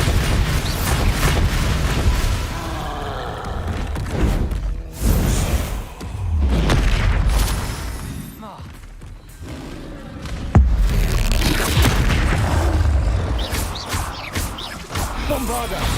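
Bombarda spell explosions in Hogwarts Legacy: repeated loud booms and thuds with whooshing blasts, coming in bursts over a busy battle mix, with a voice now and then.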